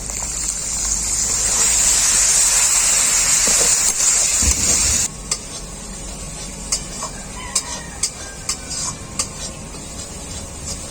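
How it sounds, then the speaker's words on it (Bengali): A loud hissing rush as water is poured into frying chopped tomato masala for ghugni, a dense sizzle for several seconds, then quieter bubbling with scattered pops and spoon clicks. "কুচি কুচি করে কেটে রাখা টমেটো মশলাটাকে খুব ভালো করে বসানোর জন্য অল্প করে আমি একটু জল দিয়ে দেব"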